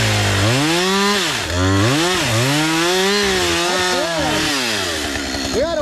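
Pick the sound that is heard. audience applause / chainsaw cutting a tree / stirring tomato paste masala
chainsaw cutting a tree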